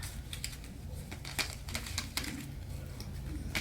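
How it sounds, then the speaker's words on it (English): Yellow cards from a board game are shuffled close by, a steady papery riffle with a few sharper flicks and snaps standing out, no voices. "Grab the yellow cards. We're gonna shuffle these."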